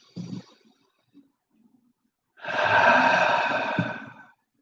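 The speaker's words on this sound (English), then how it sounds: "we're going to take a nice deep breath in and out" A single slow, deep breath is drawn in and then let out in a long, airy exhale during a guided meditation, close and soft, with silence between.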